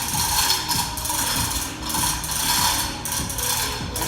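A Harbor Freight engine crane hoist works during a Jeep Hemi engine swap, giving a steady, close mechanical ratcheting with gear-like clicking that runs continuously throughout, loud and alone.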